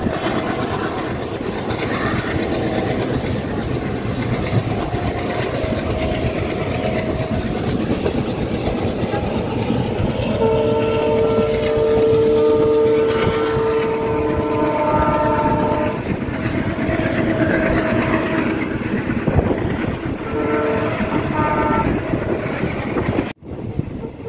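Passenger train on the Suratgarh–Sri Ganganagar line rolling steadily on rails, a continuous close rumble with wheel clatter and a long horn blast partway through, heard alone without talk.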